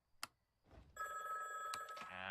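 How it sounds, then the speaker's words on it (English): A telephone starts ringing with a bright, sustained bell tone that holds for about a second and then returns, faint and alone after a couple of soft knocks. "I told you to unplug the phone."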